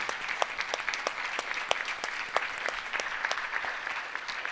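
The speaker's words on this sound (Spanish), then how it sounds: "Un aplauso ahí." A church congregation claps steadily in a dense, continuous wash of hands, moderately distant, with no voices over it.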